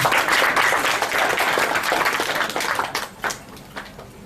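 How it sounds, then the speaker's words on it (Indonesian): Seminar audience in Malang applauding a speaker introduced to present his material, a dense burst of clapping that fades after about three seconds into a few scattered claps. "Ini kita kasih aplaus dulu. Tepuk tangan berbeli."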